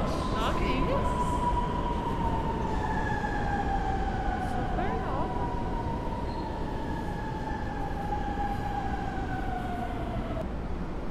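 Steady rumbling noise in a São Paulo train station on the line to Guarulhos airport, with long tonal squeals from rails or brakes drifting across, a continuous loud hum of trains and crowd.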